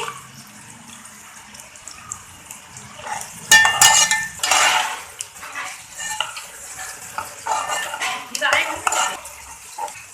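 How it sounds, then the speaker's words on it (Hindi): Onions drop into hot oil with a sudden loud sizzle, then frying crackle continues while a utensil scrapes and clinks against the pan in uneven bursts, close and without talk. "अब हमने ऑयल में प्याज डाल दिए है"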